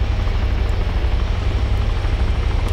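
Helicopter in the video game Arma 2 DayZ, a loud, steady rotor and engine drone that fills the whole stretch with no talk.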